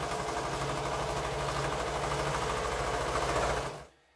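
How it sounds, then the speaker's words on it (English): A sewing machine runs a continuous straight seam on a quilt strip, a close, steady mechanical hum and rapid needle chatter that cuts off abruptly at the end. "I'm going to go to the machine and I'm going to sew that. It's just straight sewing."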